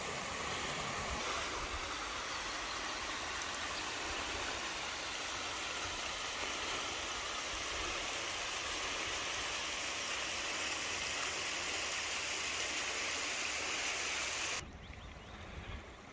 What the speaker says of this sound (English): Only a small one, but what a beautiful waterfall.